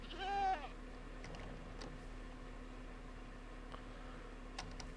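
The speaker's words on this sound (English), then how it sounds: "Was that the screaming goat?" Screaming goat in the Minecraft game, one short loud bleat at the start, then quiet background hum with faint clicks.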